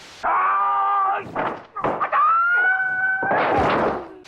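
Karate yells from a Bruce Lee fight scene: several loud, sustained, high-pitched cries separated by short thuds and impacts, close and dramatic with no talk over them.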